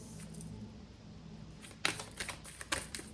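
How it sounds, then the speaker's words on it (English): Tarot cards being shuffled during a love reading, a dull low rustle giving way to a run of sharp, crisp riffling snaps and taps close by, with no voices. "2 more shuffles, please."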